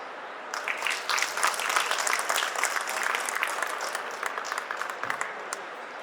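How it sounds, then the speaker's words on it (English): An audience applauds after a panel discussion at the 12th Bangladesh Denim Expo, steady clapping rising within the first second, holding throughout, then thinning slightly near the end. "my respect and applause to each of you"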